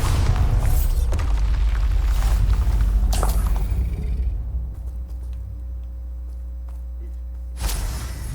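The Bombarda explosion spell in the video game Hogwarts Legacy going off with a heavy, booming blast that rumbles, then fades into a low hum, with a second smaller burst near the end.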